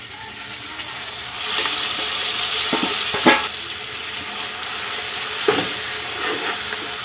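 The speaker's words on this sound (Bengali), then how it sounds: "এবার আমি কড়াইতে তেল দিয়ে ঝোলটা বানিয়ে নেব তার জন্য যে মশলাগুলো বানিয়ে তুলে রেখেছিলাম সেই মশলাগুলো এতে দিয়ে দেবো" Prepared spices fry in oil in a kadai for a curry gravy, a loud, continuous close sizzle with a few sharp spatula scrapes along the way.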